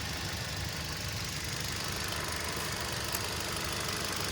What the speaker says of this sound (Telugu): ఇంజన్ నాయిస్ చాలా సైలెంట్ ఉంది